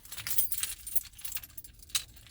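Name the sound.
spare set of keys jangling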